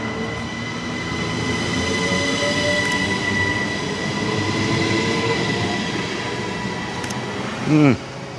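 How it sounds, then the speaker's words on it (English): A train runs on rails at dusk, a steady loud rumble with whining tones and a brief wheel squeal near the end, with a voice speaking over it. "Let's take the train."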